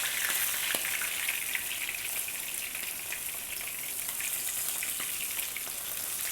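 Steady, dense sizzling of frozen mackerel frying in hot oil, a continuous bright crackle with scattered pops, close and uninterrupted, no voices.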